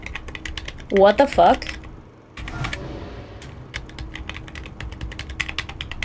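Computer keyboard keys clatter in quick, irregular presses while a video game is played, close and steady, with a brief exclaimed voice near the start.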